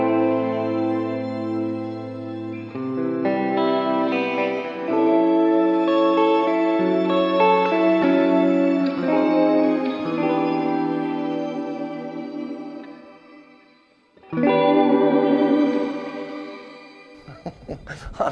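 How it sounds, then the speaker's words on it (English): A guitar played through a NUX Mighty Space wireless desktop amp with a big, heavenly reverb: sustained chords ring out with long, shimmering tails. The playing breaks off briefly near the end, then a loud chord swells back in. "I hear some Jesus reverb in there"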